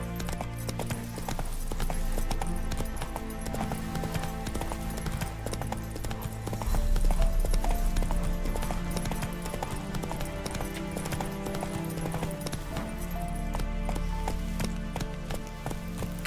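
Horse hooves gallop in The Witcher 3: Wild Hunt, a continuous quick clip-clop rhythm beneath a busy game soundscape of music and ambience, steady and moderately loud throughout.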